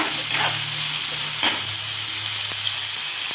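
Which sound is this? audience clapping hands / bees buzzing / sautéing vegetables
sautéing vegetables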